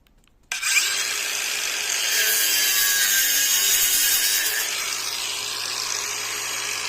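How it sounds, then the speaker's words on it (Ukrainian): Bones being sawn by hand for a stew in a home kitchen, a steady rasping scrape that starts abruptly after a brief silence and continues close and loud without pause. "Хочу дуже зробити тушонку з кістками, а вони не входять. Тому треба різати."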